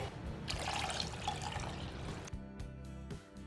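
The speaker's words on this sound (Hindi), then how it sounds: "हम यहाँ पे सॉसपैन में 2 कप पका हुआ दूध डाल लेंगे।" Two cups of boiled milk at room temperature pour into a saucepan, a steady close liquid stream that stops partway, followed by a few soft clinks and handling sounds.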